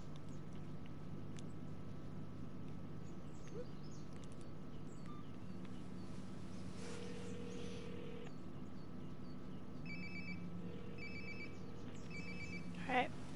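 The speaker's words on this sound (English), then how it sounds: "Sounds like my phone is definitely nearby." A phone ringing in the game Life Is Strange: Before The Storm, faint and somewhat distant, as short repeated electronic ring bursts near the end over a steady low background hum of music and ambience.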